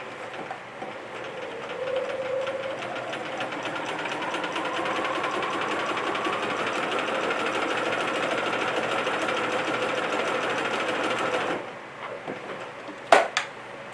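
A sewing machine fitted with a ballpoint 80/12 needle stitches fabric in one continuous, evenly humming run of fast needle strokes that stops abruptly near the end, followed by a single sharp click.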